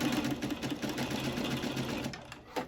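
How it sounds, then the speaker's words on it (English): A sewing machine runs a steady, close, continuous whir while stitching the full length of a knotted fabric headband at a quarter-inch seam allowance. "go ahead and just sew the whole length at a 1/4 inch seam allowance."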